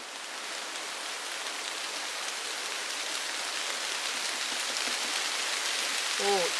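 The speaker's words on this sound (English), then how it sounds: "Oh, it's raining hard now." Heavy rain pours down outdoors in a steady, dense hiss of drops hitting surfaces, continuous and fairly close, with a brief voice-like sound right at the end.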